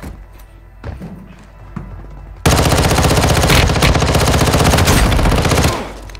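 Gunfire in Warzone Mobile: a few scattered thumps and shots, then a sudden loud sustained burst of rapid automatic fire lasting several seconds before cutting off.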